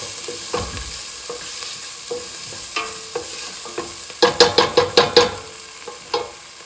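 Onions fry in a pan with a soft sizzle as a spoon taps and scrapes repeatedly, including a quick burst of six clacks near the middle, close by with no speech.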